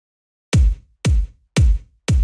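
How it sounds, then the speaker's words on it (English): Four evenly spaced kick drum hits processed with 1980s-style gated reverb using a medium gate, each a punchy, loud thump whose reverb tail is cut off abruptly, with silence between. "Gated reverb, medium gate."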